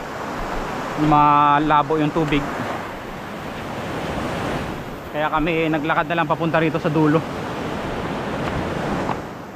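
Strong ocean surf breaking on a beach during shore casting, a loud continuous roar of waves and wind buffeting the microphone, with someone talking over it in two stretches.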